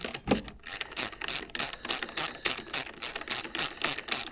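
A ratchet wrench clicks rapidly in a steady rhythm while snugging bolts on the steering stem of a Yamaha TW200 motorcycle. The sound is close and fairly quiet, with no talking.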